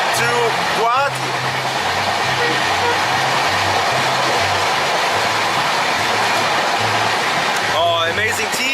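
A passenger train bound for Guwahati rolls along the rails with a loud steady rumble and rhythmic clickety-clack, brief horn-like tones near the start and end.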